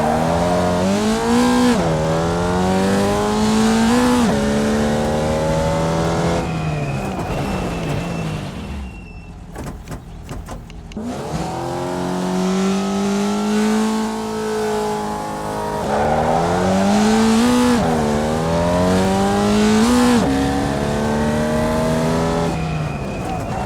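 Race car in the iRacing sim launching off the line with a manual clutch, engine revving and climbing through gears in loud rising sweeps, easing off briefly mid-run before pulling hard again.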